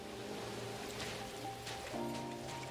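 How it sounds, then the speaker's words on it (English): Steady rain hisses over a low rumbling background in the video game Neverness to Everness, with a constant wash of noise and faint tonal hum from game ambience. "it's already raining and thundering."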